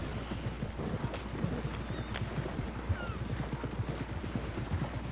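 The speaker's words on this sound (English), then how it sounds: "Seeing a horse outside the metal office." Horse hooves clip-clop steadily on the ground outside an office in a Western video game set in 1903, a continuous rhythmic clatter heard alone without talk.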